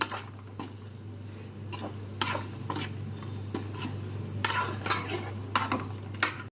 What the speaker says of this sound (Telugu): అంతా ఆ పచ్చివాసన పోయేదాకా లో ఫ్లేమ్లో పెట్టుకొని కలుపుకుంటే బాగుంటుంది